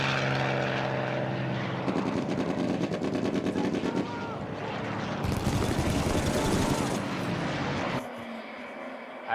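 World War II propeller aircraft drone overhead during a wartime supply drop in Band of Brothers, a loud sustained engine roar that shifts in bursts alongside gunfire and dialogue.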